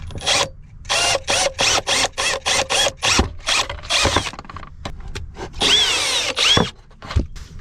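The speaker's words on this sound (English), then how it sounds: "I'm gonna drill some holes and bolt it in." A power drill bores holes in a van, running in a quick series of short loud bursts with brief pauses, then a longer straining run and a final short burst, close up and without talk.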